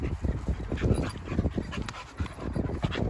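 Two pitbulls meet just after their muzzles come off, whimpering and panting up close in steady, breathy, rapid bursts over a rustling background, with no talk.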